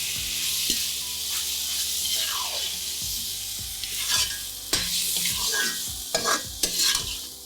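A turmeric, red chilli powder and garam masala mixture fries in a pan and is stirred vigorously, giving a continuous bright sizzle broken by repeated close spatula scrapes and knocks.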